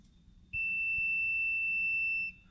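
A single continuous high-pitched electronic beep from a voltage tester detecting a 120-volt line, lasting nearly two seconds, loud and close, starting and stopping abruptly over a quiet background.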